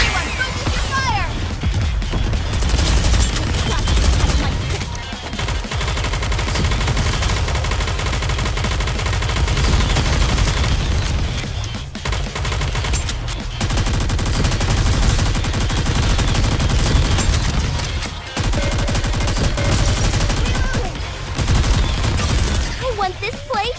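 Rapid gunfire and explosive bursts from the NIKKE video game's Chapter 24 campaign battle fill the clip continuously, loud and dense, with brief drops between volleys and game voices and music mixed in.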